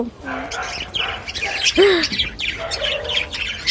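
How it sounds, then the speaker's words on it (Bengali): Two pet birds chirp in short, bright tweets and one rising call, fairly close, with a person talking softly underneath. "এই পাখি দুটো আমার ভীষণ ভালো লাগে আর ভীষণ সুন্দর এই পাখি দুটো খুব ভালো লাগে"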